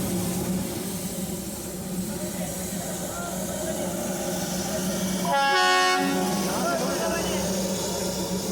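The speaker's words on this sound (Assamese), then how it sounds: "এতিয়া উঠিবলৈ গৈ আছোঁ ট্ৰেইনত।" Darjeeling toy train at a cold hill station, its rumbling engine and wagons heard nearby under voices, with a short horn blast sounding partway through.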